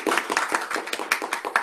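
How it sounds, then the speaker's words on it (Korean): An audience at a university policy seminar claps to welcome a presenter, with a small group's distinct, fairly rhythmic hand claps close by, about a dozen sharp slaps in quick succession. "일단 박수 좀 부탁드립니다"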